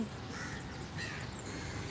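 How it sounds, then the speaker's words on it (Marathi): Crows caw faintly in the distance over a steady outdoor background hiss. "बघा कावळा कसा ओरडते"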